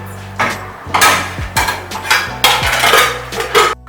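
A lid going onto a cooking pot while Nigerian yam porridge is prepared: a quick series of loud, close metallic clanks and rattles of pot and lid over a few seconds.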